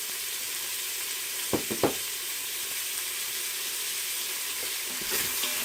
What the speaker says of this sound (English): And I'm just going to let my pork sear off.